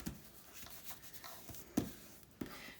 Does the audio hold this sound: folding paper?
yes